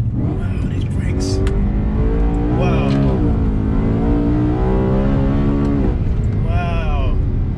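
A BMW E90 M3 engine accelerates hard and close, its pitch sweeping up and down through several gear changes, with a person talking over it.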